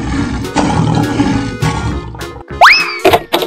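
A cartoon lion lets out a loud roar, gruff and pulsing, followed by a bright rising cartoon boing and a couple of short plops, all clear and close with no speech.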